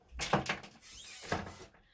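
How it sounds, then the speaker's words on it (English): An indoor door is pushed shut with a soft, close thud and brief rattle, fairly quiet, heard alone without talk. "Just going to shut this door."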